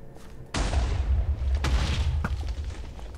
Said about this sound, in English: They seem to be having fun with the TNT cannon